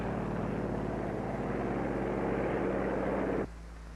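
Aircraft engines of control planes taking off from an aircraft carrier, a loud steady propeller drone with low tonal hum that cuts off abruptly near the end, leaving quieter background.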